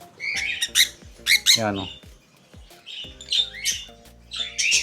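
Double factor lutino opaline lovebird squawking in loud, harsh repeated bursts close by, with a few brief spoken words between the calls.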